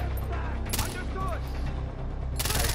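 A weapon fires in Far Cry 4 in short, close bursts at the start and end. A brief voice is heard between them over continuous game noise.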